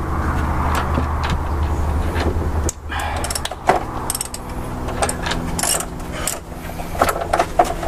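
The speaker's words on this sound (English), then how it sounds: "and then I'm going to put the ratchet" A large ratchet with a 15mm socket on an extension turns during repair work on a Ford F-250 engine bay, giving repeated close mechanical clicking and grinding bursts over a steady low drone.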